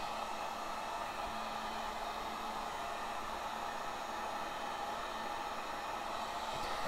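Heat gun on its high setting blowing hot air over wet acrylic pour paint, a steady, loud broadband whoosh with a faint motor whine running unbroken throughout.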